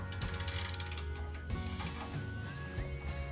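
A wrench ratchets on a suspension nut during a Road Active Suspension installation, giving a close burst of rapid metallic clicks followed by quieter mechanical turning.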